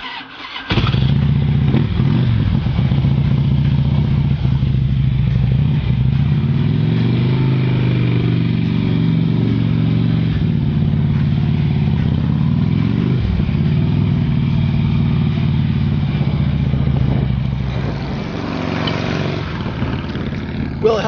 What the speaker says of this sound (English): show you the magnificence of riding a motorcycle in the Great Barrington Mountains in the Berkshires